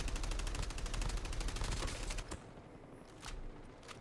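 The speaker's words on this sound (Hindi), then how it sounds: "वो क्योंकि बहुत दूर से हम फायरिंग कर रहे हैं" Rapid automatic gunfire in the Call of Duty Mobile video game, a dense sustained burst that stops abruptly and is followed by a few scattered, more distant shots.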